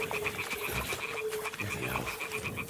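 Toads croaking in a medieval game setting, a steady chorus of repeated rasping croaks layered with a high insect-like trill, continuous and moderately loud with no talk.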